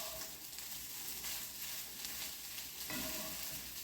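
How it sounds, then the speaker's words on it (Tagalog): Rice stirred with soy sauce in a frying pan, a steady soft sizzle with faint scraping stirs throughout, no voices. "Mekos-mekos lang siya para mang-mix ang soy sauce dun sa kanin."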